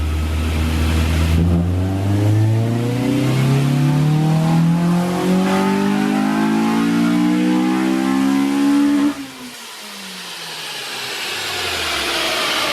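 A B18C Type R engine swapped into a 2000 EM1 Honda Civic Si revs steadily upward in a loud, close sweep past the VTEC changeover, then drops off sharply and settles.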